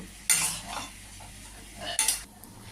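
Vegetable dal poured over vegetables and stirred in a pan to simmer, with two loud bursts of scraping and stirring separated by a quieter bubbling stretch, close up and with no talking.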